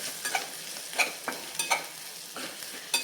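Garam masala being stirred into potatoes and spinach frying in a pan, with a soft steady sizzle and a spoon scraping in irregular strokes, close and alone.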